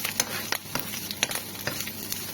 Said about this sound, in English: So we just drop the sausage in. And we fry it.